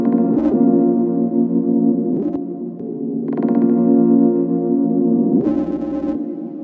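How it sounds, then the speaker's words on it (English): Granular synthesis in Ableton gives a sustained droning tone whose texture shifts as the grain size changes, with brief bright bursts and stuttering flutters breaking in, alone and fairly loud. "it gets even more interesting when you mess around with the grain size down here while it's playing."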